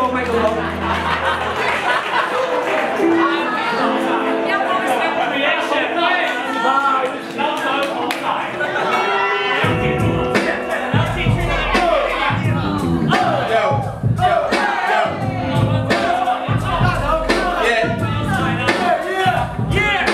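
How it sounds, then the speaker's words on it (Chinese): At a rap battle event in Taipei, a crowd cheers, laughs and whoops loudly and continuously. An MC talks over it, and a beat kicks in about halfway through. "台北的人拜托帮大头欢呼一下吧"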